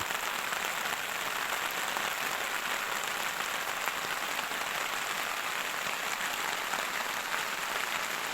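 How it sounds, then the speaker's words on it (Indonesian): Heavy rain pours on a campsite at the foot of Mount Rinjani, a constant, close hiss of drops drumming with no letup or talk across the full eight seconds. "tambah deras sekali hujannya, dingin guys"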